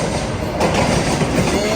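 The Shirdi Vande Bharat train rolls along a station platform with a loud, steady rumble of wheels on rails and a faint squeal, close by and continuous.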